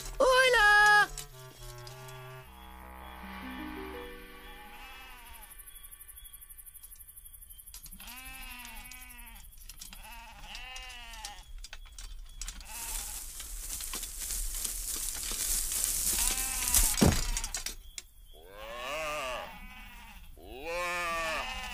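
Several sheep bleat repeatedly, some wavering calls overlapping, amid background music and a burst of hissy noise.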